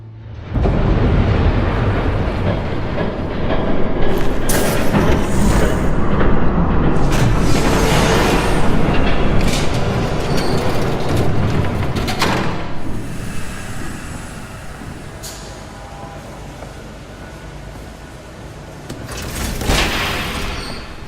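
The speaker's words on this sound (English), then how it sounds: "There's a train coming." A train rumbles past in Batman: The Telltale Series, a loud, sustained roar with dense low rumble and bright metallic bursts that builds, holds for most of the stretch, then eases and swells briefly again near the end.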